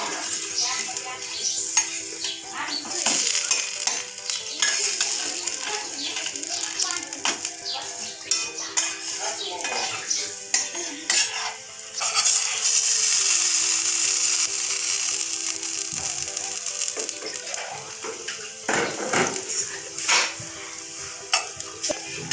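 Aloo paratha roasting on a hot pan, with a steady sizzle, intermittent scraping and clinks of a utensil against the pan, and brief bursts of louder frying in a home kitchen.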